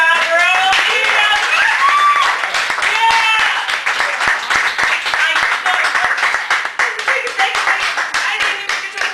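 Loud crowd applause and sharp individual claps fill a Chicago café after a poetry feature, mixed with cheering and whooping voices, continuing strongly before thinning toward the end.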